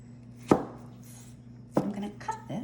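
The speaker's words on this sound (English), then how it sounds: "I'm gonna cut this into 8 scones" A bench scraper chops down through a round of strawberry olive oil scone dough onto a board, a few sharp separate thuds with short scraping afterward, fairly quiet with a hum behind.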